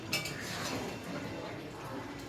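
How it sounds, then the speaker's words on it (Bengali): Pots and utensils clink faintly in a home kitchen while mutton biryani is cooked, with a sharp clink at the start over a soft, steady background clatter. "আর দিদি রান্না করছে।"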